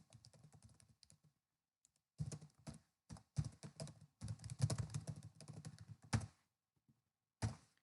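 Code is typed on a computer keyboard in quiet, close bursts of rapid key clicks separated by short pauses, with a few heavier thunks, and no voices.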